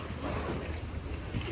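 Speedboat ride on the sea near Hong Island off Phuket, Thailand, with steady wind buffeting and rushing water filling the whole stretch, loud and continuous with no talk.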